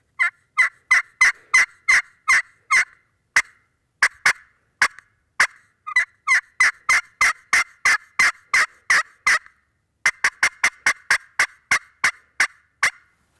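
A turkey call sounds a series of sharp, rapid yelps in bursts, loud and close, pausing briefly between runs, with no voices.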